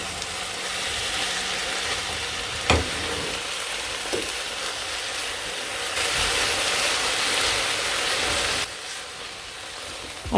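Green tomato chutney cooks in a pot over a high flame, giving off a steady, close sizzling hiss. A couple of sharp clinks from stirring stand out, with no talking.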